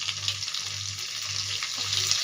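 Curry leaves dropped into hot oil already crackling with mustard and cumin seeds give a continuous close, bright sizzle with low pulsing hum and faint popping throughout.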